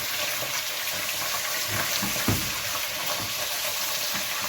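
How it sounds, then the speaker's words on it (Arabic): Meat frying in a granite pot as pieces are turned on their sides to brown, a steady close sizzle and hiss with faint stirring scrapes and one soft knock near the middle. "اللحمه هقعد اقلبها على الجناب بحيث تبقى ايه تتحمر لي تتشوح كويس"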